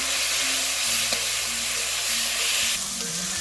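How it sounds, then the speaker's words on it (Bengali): Cumin paste and spice masala frying in a pan while being stirred, a steady close sizzle with brief scrapes, for a Bengali ridge gourd and prawn curry. "এখন জিরে বাটাটাকে খুব ভালোভাবে কষিয়ে নেব।"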